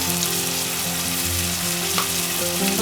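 Tomatoes sauté in a pan for a biryani gravy, giving a dense, steady close sizzle with faint tonal kitchen hum beneath and no voices.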